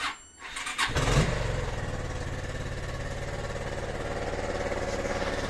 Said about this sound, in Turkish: motorumuzu bir çalıştıralım çok uzatmadan